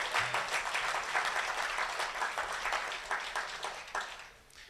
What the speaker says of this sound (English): You can clap because this is really special.